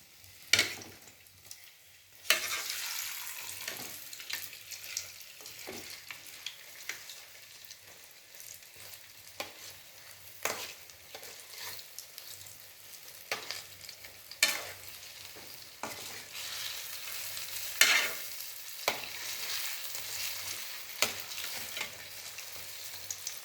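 Blackgram dhal bondas deep frying in hot oil, a steady broadband sizzle with recurring sharp scraping and stirring clicks throughout, close and fairly loud, no voices.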